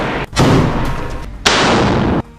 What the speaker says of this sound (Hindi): वो एक स्टूल पर रखे गद्दों पर राइफल को रखकर सामने से भाग रहे इजरायली सैनिकों पर ताबड़तोड़ फायरिंग कर देता है